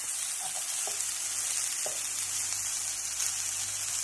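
Cumin seeds sizzling in hot oil for a green chickpea curry, a bright continuous hiss close up with a few faint clicks from the pan.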